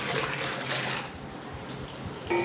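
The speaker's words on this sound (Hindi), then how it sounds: "अब जब आप ये डालेंगे पानी तो देखिए यहाँ पर आपको इसके टैप को ओपन रखना है।" Water runs from the tap of a water dispenser during cleaning, a steady close splashing rush that eases slightly midway and swells again at the end.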